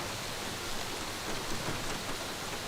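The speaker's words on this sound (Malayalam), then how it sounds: "എന്തൊരു മഴ." Heavy rain pours down in a steady, dense hiss with no breaks, faint and even throughout, with no voices.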